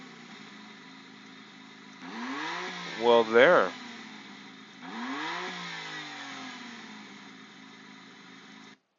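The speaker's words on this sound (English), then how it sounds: "click to start and rev the high-performance Nettuno engine" A Maserati MC20's high-performance Nettuno engine, heard as a played-back recording, starts and revs twice in short rising bursts, moderately loud, with a person talking around it.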